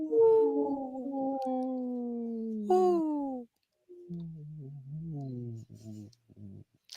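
A wolf gives long, sliding, tonal howls, one held call dropping in pitch and then a wavering second call that breaks up into shorter pieces near the end, loud and close with no other sound around it.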